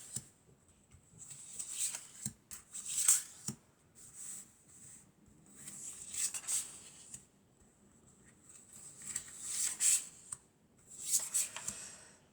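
Tarot cards being drawn, shuffled and handled during a reading, soft papery swishes and slides coming in several bursts with quiet gaps between, close and faint, with no talking.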